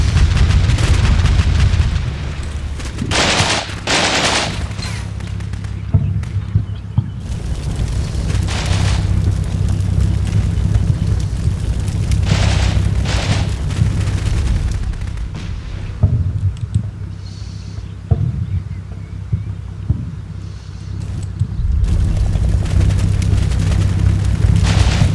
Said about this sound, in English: That guy's taking intense fire.